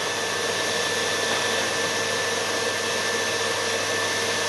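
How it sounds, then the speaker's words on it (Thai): Electric mixer whipping eggs for a banana cake, a loud steady high whine running without pause, close up with no talking. "เมื่อตีเข้าไปเรื่อยๆ ให้อากาศมันเข้าไปในตัวไข่ ไข่เนี่ยจะขึ้นฟูแล้วก็เป็นพิมพ์ขาว"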